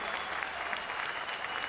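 A baseball crowd applauds steadily and fairly loudly for the first hit off the pitcher in a Kansas City Royals at Pittsburgh Pirates game, with a dense, even wash of clapping and no talk.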